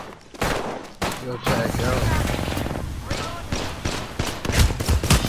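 Rapid gunfire in a video game crackles in dense bursts under excited voices, the shots loud and close, with thumping impacts scattered through.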